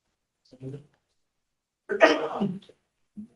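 Someone sneezes once in a courtroom, a sharp, burst-like sound at middle distance, set between brief faint noises and quiet.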